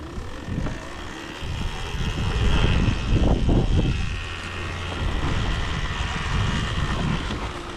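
An electric trials bike motor running outdoors, a steady whirring hum that swells and fades over several seconds amid wind buffeting on the microphone, with no talk.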